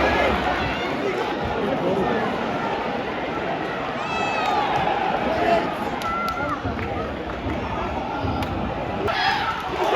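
A football stadium crowd roaring through a corner kick in a Plymouth Argyle home match, a loud continuous mass of cheering and shouting with scattered whistles and nearby voices.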